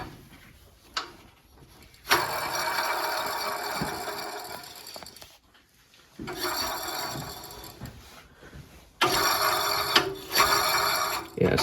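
A worn idler pulley spins on a Wheel Horse Raider 9 garden tractor, giving a rough, rasping mechanical whir that runs in sustained stretches and breaks off briefly in between.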